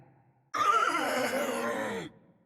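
Fiddlesticks, a League of Legends character, mimics a horse's neigh: a single drawn-out, strained whinny lasting about a second and a half, loud and close, starting abruptly and fading at the end.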